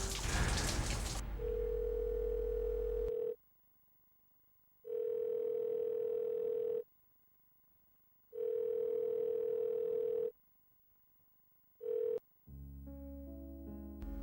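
A telephone rings at a guest house: three long steady ring bursts with pauses between them and a brief fourth cut short, heard alone and fairly loud, ending as other sound comes in.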